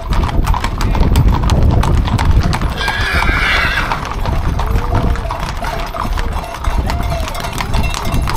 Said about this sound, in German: Eine ganze Herde Camargue-Pferde.